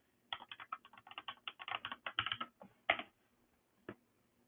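Keystrokes of a username and password on a computer keyboard, a quick run of close, crisp clicks and taps that slows near the end with a final isolated press.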